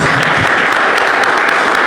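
Applause fills a church service, a steady wash of many hands clapping close and loud throughout, with no voices over it.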